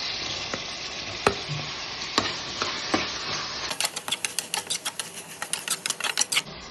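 Potatoes fry with tomato and ginger for a chicken curry, a steady close sizzle broken by a few sharp clicks, then a fast run of rapid taps near the end.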